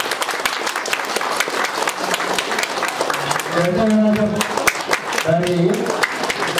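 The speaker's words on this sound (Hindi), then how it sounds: "अपने लिए जोरदार ताली बजाइए, अपने सम्मान के लिए जोरदार ताली बजाइए" An audience at a large company event applauds loudly with dense, sustained clapping from a crowd, while someone speaks over it through a microphone.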